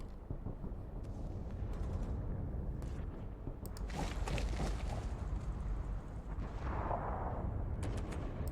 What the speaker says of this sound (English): Is this artillery?